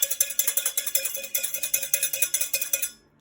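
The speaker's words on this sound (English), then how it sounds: "Keep stirring or whisking." Quick, rhythmic scraping of a whisk against a bowl of cacao, bright and close, steady strokes for a few seconds before stopping.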